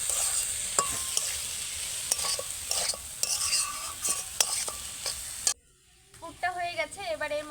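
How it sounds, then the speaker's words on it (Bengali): Cauliflower filling mixed with turmeric, cumin and chili powder, stirred in a hot pan: a steady sizzle with repeated scraping clicks of the spatula, close up, and then a short pause and a quieter tail. "এবার ভালো করে মিক্স করে নিচ্ছি।"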